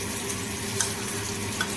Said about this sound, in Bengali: পেঁয়াজের মশলার সাথে আলুগুলোকে খুব ভালো করে কষানো হচ্ছে